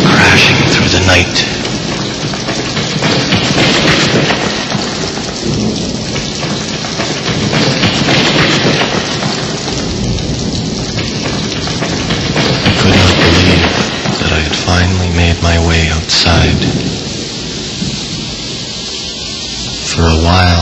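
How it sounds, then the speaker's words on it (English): A torrential rainstorm roars without pause, broken by repeated deep thunder crashes and rolling booms of varying strength across the stretch, loud and enveloping, with no voices. "The thunder still crashing through the night."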